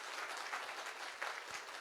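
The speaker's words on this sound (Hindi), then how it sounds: "अब तक की सबसे जोरदार तालियां कंपनी के एमडी एंड सीईओ श्रीमान पदम सर के लिए" Steady applause from an audience at a company event, honoring the MD and CEO, a continuous dense clapping heard fairly faint and distant throughout.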